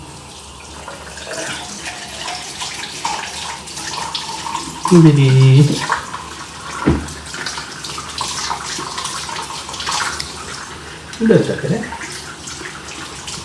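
Tap water runs over a Shiba dog's paws during a home washing routine, a steady wash of running water near the sink with someone speaking over it.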